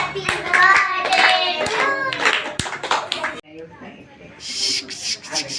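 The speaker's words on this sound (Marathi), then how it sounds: "हा चला टाळ्या वाजवा." Hand clapping at a birthday party, a burst of claps mixed with voices and laughter for the first few seconds, then quieter chatter with scattered claps.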